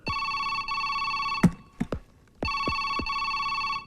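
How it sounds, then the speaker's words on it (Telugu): A telephone rings in a chief minister's office in a Telugu film scene: bright, repeated electronic ring bursts, loud and close, broken by a pause with a few sharp clicks before the ringing resumes. "ఆ ఫోన్ రింగ్ అవుతోంది"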